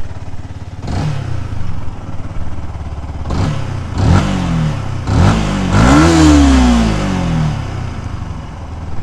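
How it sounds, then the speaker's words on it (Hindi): A Yamaha R15 V2 motorcycle engine with a throttle fault idles close by, then is blipped in sharp revs. Four or five loud throttle bursts rise and fall, the last held longest, with no talking. "ये इसका साउंड है बाइक का,"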